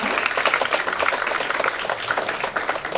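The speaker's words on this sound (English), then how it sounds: "Please give a round of applause for PM Dr. Hasina." A round of applause at a tourism and technology symposium, with many hands clapping densely and fairly loudly throughout, no talk over it.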